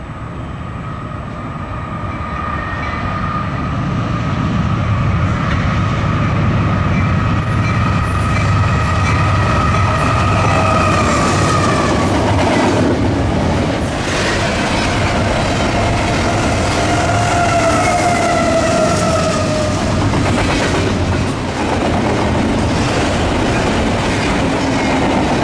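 An eastbound Norfolk Southern freight train, NS276, rolls past with a GE C6M locomotive leading and two mid-train DPUs. A steady loud rumble of wheels and cars continues throughout, with horn-like tonal bands and some wheel squeal midway. No voices.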